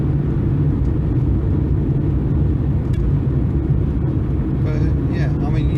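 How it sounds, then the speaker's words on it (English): Steady low roar of tyres on pavement from inside a moving 1979 Honda Accord 1.6 five-speed, a constant broadband rumble with a brief voice near the end. "Fair bit of tyre noise."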